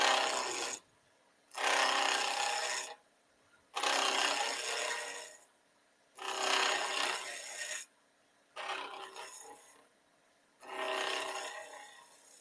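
A skew chisel cuts a wood blank spinning on a lathe in six separate bursts of loud, hissing scraping, each lasting about a second or two, with short quiet gaps between them.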